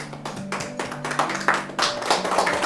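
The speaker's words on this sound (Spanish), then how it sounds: "Vamos a dar aplauso a Dios." Church congregation clapping in praise, a loud steady rhythmic beat of hand claps with a sustained musical tone underneath.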